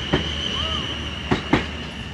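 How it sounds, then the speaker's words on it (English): Passenger train departing Basingstoke station on the Reading service, heard as a steady rail hum with a high whine and a few sharp clanks and wheel knocks at the start and near the end, with no talk over it. "The Reading train's leaving."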